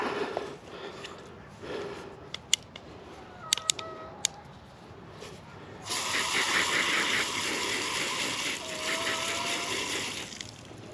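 Garden hose water spraying over freshly harvested Cherry Belle radish greens outdoors, a steady broad hiss that starts abruptly partway through and runs on continuously, loud and close, after a quieter stretch with a few faint clicks.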